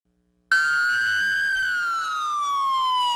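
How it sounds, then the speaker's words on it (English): Police car sirens from a funeral procession for a deputy on the main street through Rolla, a loud close wail that starts abruptly and holds, its tone slowly sliding downward. "The sound of 100 police sirens took over the main drag through Rolla"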